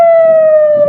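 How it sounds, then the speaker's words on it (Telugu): A war siren in Iran during missile strikes, wailing as a single loud sustained tone with harmonics that glides slowly downward over a low rumbling background. "టెహ్రాన్, ఇస్ఫహాన్, మాషాద్ వంటి నగరాల్లో వార్ సైరన్లు మోగుతున్నాయి"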